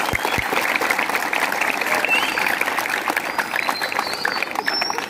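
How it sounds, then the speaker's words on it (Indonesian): Steady clapping from students at a school assembly welcoming two visiting doctors, a dense continuous wash of applause throughout. "Tepuk tangan."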